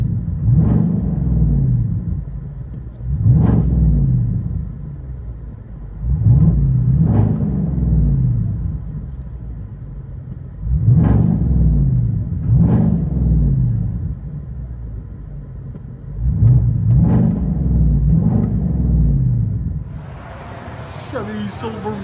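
A 2022 Chevy Silverado RST with a 5.3L V8 and true dual straight pipes, heard from the cab, revs in five or six deep rumbling surges that rise and fall about every three seconds, with quiet idle between them.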